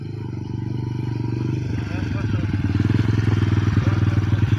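A motorcycle engine runs close by in a Nepali village, with a steady low rumble that grows slightly louder and more throbbing over several seconds.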